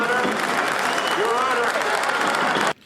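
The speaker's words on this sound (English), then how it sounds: "The cops are all cheering in the background" Police officers cheer and clap in a courtroom scene from the action film Tango & Cash, a dense burst of applause and whooping voices that holds steady, then cuts off abruptly at the end.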